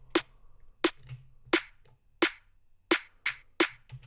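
Layered snare drum samples stacked and transient-shaped, hitting together as sharp, punchy cracks in an irregular pattern, seven or so hits over a few seconds with quick decays and no talking.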